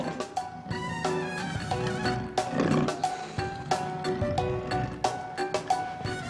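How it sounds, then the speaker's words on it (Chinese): A downloaded recording of a big-cat roar, likened to a tiger-lion hybrid, plays loud and close as a string of rough, swelling roars over busy tonal layers, with no speech heard. "你这是老虎跟狮子的杂交啊！"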